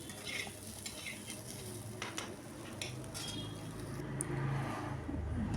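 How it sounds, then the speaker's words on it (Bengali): Soybean chunks frying in a pan, a soft steady sizzle with scattered clinks and scrapes of stirring, fairly quiet and close. "সয়াবিনটা কিন্তু ভাজা ভাজা হয়ে এসছে"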